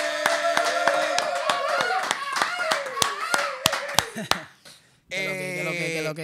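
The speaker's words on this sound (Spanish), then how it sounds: "quiero que recibamos con un fuerte aplauso a Caleb Calloway" Audience claps to welcome guest Caleb Calloway, sharp separate claps at first, then the clapping thins and stops before a tonal musical intro begins.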